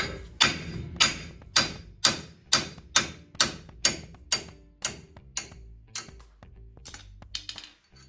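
A claw hammer strikes a steel wheel stud on an S10 in a steady rhythm, about a dozen sharp ringing blows close by, slowing slightly toward the end.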